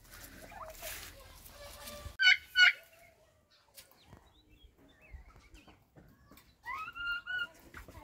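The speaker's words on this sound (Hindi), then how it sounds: "अभी हमने निकाले हैं अपने टर्की बर्ड्स बाहर" Turkeys gobble in short bursts, a couple of sharp rapid calls followed by more gobbling later, with quieter bird noises in between.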